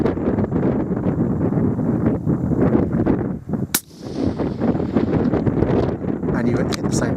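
A strong 20+ mph crosswind buffets the microphone at an outdoor shooting range with a .204 Ruger, a constant roaring rumble broken by one sharp rifle crack midway.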